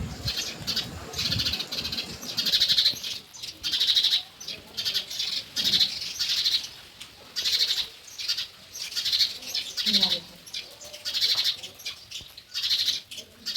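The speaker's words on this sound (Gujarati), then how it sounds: "તો આ જો ચકલીનું બચ્ચું ખબર નહીં ક્યાંથી આવ્યું" Sparrow chick chirping near a nest at a home during rain, a rapid run of high, thin repeated chirps in steady bursts throughout, fairly close, with no talk.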